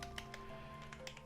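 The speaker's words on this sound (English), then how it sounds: "we're typing in the wrong place again" Quiet computer keyboard typing during a Minecraft Project Ozone 3 session, several soft irregular key clicks over low background hum, no voices.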